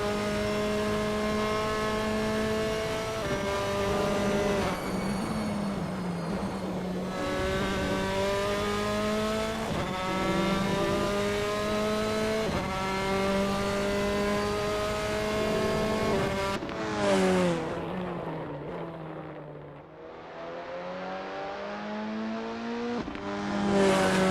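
A Formula 4 race car on a practice out lap at Misano in Assetto Corsa, its engine whining up through the gears in repeated pulls with shifts, easing off near the end, loud and close.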